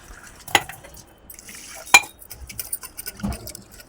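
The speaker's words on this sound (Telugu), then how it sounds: "ఇంకా కడుగుతున్నాను కదా" A glass of rice is washed in a metal pot for sweet pongal, with soft swishing and stirring punctuated by three sharp, close metallic clinks spaced over a few seconds.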